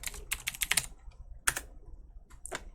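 Quick keystrokes on a computer keyboard while working in Unity's visual scripting editor: a rapid burst of taps, a pause, a single firm key press, then one more short clatter, close and clear with no talking.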